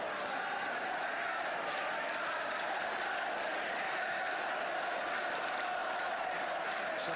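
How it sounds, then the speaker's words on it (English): Chelsea supporters at a 1972/73 First Division football match against Manchester United, a dense, steady crowd roar at a distance filling the whole stretch, with faint commentary voices under it. "Those are the Chelsea supporters."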